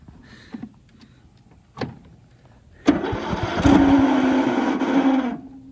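Following a few scattered knocks and clicks, a car engine cranks and catches with a sudden loud start and then runs steadily at close range for a couple of seconds before cutting off.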